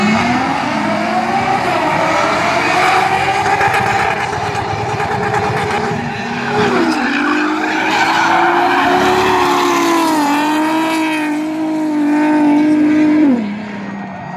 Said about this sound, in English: That was a big drift.